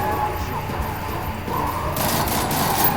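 Gunfire in Call of Duty Modern Warfare 3, dense bursts of shots mixed with game noise, with excited voices shouting over the shooting throughout.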